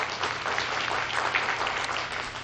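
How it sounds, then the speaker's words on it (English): Loud, steady applause from an audience at a school service club awards ceremony, a dense continuous patter of many hands clapping close by without pause. "So let's give them a big round of applause for being here."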